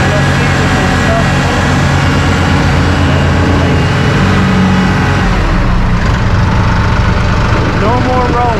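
A Massey Ferguson eHydrostat tractor engine hums loudly and steadily under pedal load, building slightly as back pressure rises, with someone talking over it close by.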